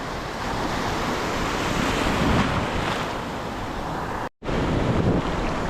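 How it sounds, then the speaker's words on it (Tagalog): Strong wind buffets the microphone on a Philippine shoreline during shore fishing, blending with a continuous, loud wash of surf and rushing noise, with one brief dropout near the end. "Malakas na rin yung hangin mga pawe."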